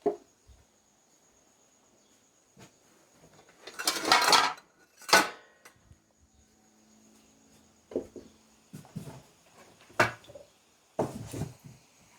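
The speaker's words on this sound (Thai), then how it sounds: "ดี๋ยวเราจะตักใส่จานนะคะ" Fried sun-dried pork being scooped onto a plate brings scattered clinks and scrapes of a ladle against dishes, with a louder rattling burst early on, then quieter intermittent taps amid near silence.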